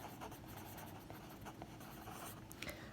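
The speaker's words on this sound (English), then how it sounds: "Let me write that down." Pen or marker writing notes during a math lecture, quiet and close, with a string of short scratchy strokes and no talking.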